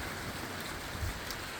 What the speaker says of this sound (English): Definitely getting some refreshing rain.